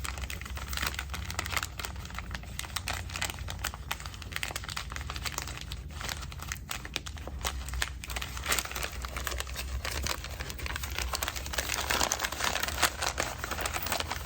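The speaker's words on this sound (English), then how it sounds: "I need to stop crinkling this bag with a vengeance, because I forget how loud it is on camera" A plastic advent calendar bag is crinkled and crumpled close up in continuous loud, crackly bursts that run the whole time, with no speech.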